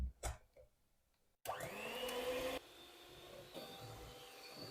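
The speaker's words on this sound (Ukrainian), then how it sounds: "І міксером збиваю все в пишну піну." An electric hand mixer whips eggs, salt and vanilla sugar into a fluffy foam for an apple charlotte. A steady whirring drone starts after a quiet pause, holds, then drops to a lower, softer hum.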